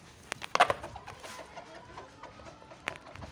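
Chickens in a small farm cage cluck in short, scattered bursts, a few sharper calls standing out against quiet background noise, with no talk.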